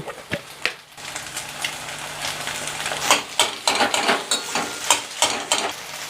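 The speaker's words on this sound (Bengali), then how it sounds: "এবার একটু গ্যাসের আঁচটা বাড়িয়ে ডিমগুলোকে ভেজে কুচি করে নেব।" Eggs fry and get broken into scrambled bits in a pan over a raised gas flame, steady sizzling punctuated by repeated scraping and tapping of the spatula, growing busier and louder, with no voices.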